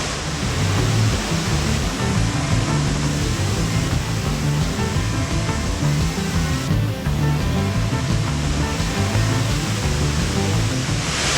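A waterfall on Ping Nam Stream in Hong Kong's mountains roars steadily and loudly at close range, a dense, unbroken rush of falling water with no voices.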